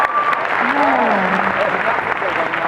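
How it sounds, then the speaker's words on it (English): A costume contest audience at a fan convention gives steady applause for the novice entrants, a continuous wash of clapping and crowd noise with a voice speaking over it. "let's give them a huge round of applause"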